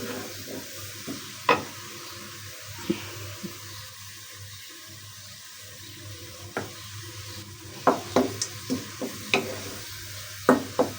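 Onions frying and browning in a pot for aloo gosht give a soft bubbling sizzle under repeated sharp scrapes and knocks of a spoon stirring. The clatter grows busier toward the end, and no one speaks.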